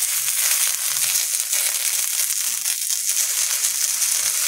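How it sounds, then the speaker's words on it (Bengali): Neem leaves frying in a pan as part of a Bengali home-cooking session, giving a steady, close, dense crackling sizzle that runs unbroken at an even level throughout. "নিম পাতাগুলো এইভাবে দিয়ে দেবো ছড়িয়ে ছড়িয়ে"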